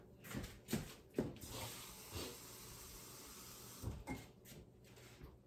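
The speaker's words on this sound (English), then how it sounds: "got to put in a 1/2 cup of water" Water splashing and pouring into a measuring cup, with a few sharp clinks and knocks at intervals, fairly quiet and close.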